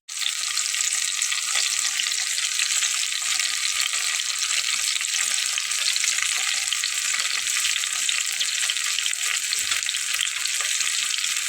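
Beaten egg poured into a frying pan with eggplant sets off a sudden, loud, hissing sizzle that carries on evenly to the end, with no talking.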